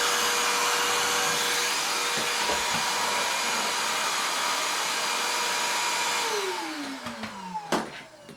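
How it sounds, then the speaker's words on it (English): A Parkside 20V cordless shop vac runs over carpet with a loud, steady motor roar and airflow hiss close by, then winds down near the end with a falling pitch and a couple of knocks. "It struggles to get the carpet clean"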